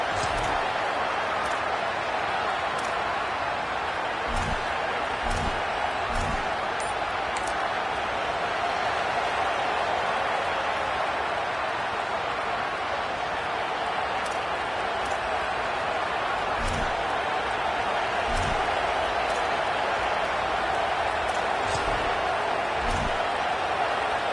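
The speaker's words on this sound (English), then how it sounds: "Decibels rising as the crowd gets behind this defense on 3rd down." Football stadium crowd roars steadily through a third-down defensive stand, a dense, loud wall of cheering with scattered sharp claps and thumps, without pause throughout.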